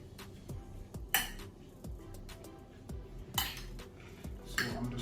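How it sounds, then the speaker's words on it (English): A utensil works seasoning into raw beef in a bowl for Jamaican beef patties, giving a few quiet close scraping strokes and occasional sharp clinks of metal against the dish at irregular intervals. "I'm gonna just mix this in together to season the beef"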